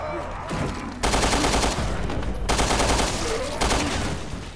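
Automatic machine gun fire in Resident Evil Revelations 2 rattles in two long, dense bursts separated by a short gap, loud and close against game background noise.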